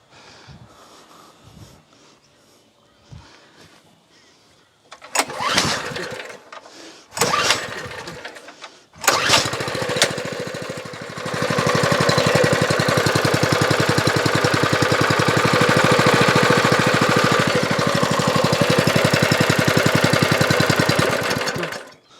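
An old petrol air compressor driven by a Honda engine: several sharp rattling pull-start attempts, then the engine catches and settles into a loud, steady, close chugging drone.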